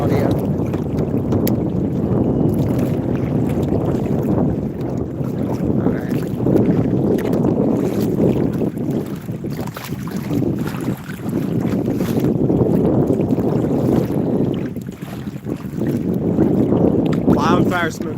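Strong wind buffets an outdoor microphone beside a lake, a steady low roar with gusty swells and dips running throughout, close and loud.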